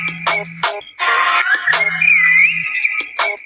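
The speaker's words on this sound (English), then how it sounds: "That's a great ringtone." A bright electronic ringtone plays in repeating bursts of chirpy tones over a low buzzing hum, loud and close, with no talking.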